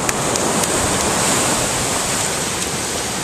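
Ocean waves wash up on a beach in San Juan, a steady, broad roaring hiss of surf close by, continuous throughout with no voices.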